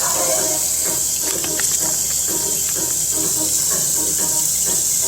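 Water is sprayed into a pouch to rinse out food residue, producing a continuous close hissing spray that holds steady throughout without pauses.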